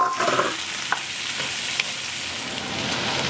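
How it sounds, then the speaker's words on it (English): Corn kernels cut off the cob sizzle in a pot of hot mixture, a continuous close hiss with a few scraping clicks from stirring. "Add that to our mixture here. Stir it around, and we're going to cook this for 4 minutes."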